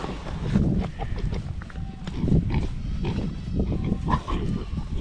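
Pigs on a small homestead grunt and snuffle close by over a noisy farmyard, with a person talking intermittently among them.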